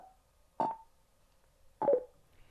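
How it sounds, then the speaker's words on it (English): Two short electronic beeps from a Cardo Scala Rider Freecom 4 motorcycle intercom, spaced about a second apart, sound clearly against a quiet background. "press the phone button for 2 seconds or until you hear the second beep"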